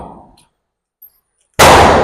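A single sharp, loud gunshot from an everyday-carry handgun cracks out near the end after a fading earlier report and a brief click, outdoors at a shooting session.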